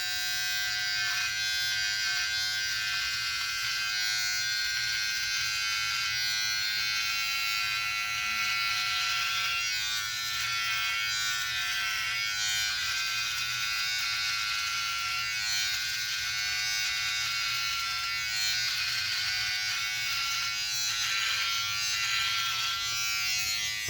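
A Wahl carbon blade electric shaver runs against a face, a continuous loud close buzz with a steady whine and slight rasping variations as it moves over stubble, with no talking.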